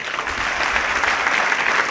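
An audience at a speech claps steadily, a dense close wash of applause filling the short stretch without pause, no voices on top.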